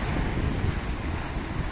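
Ocean waves on the rocky coast at Porto Covo, a continuous, loud wash of surf mixed with heavy wind rumble on the microphone, with no distinct individual breakers.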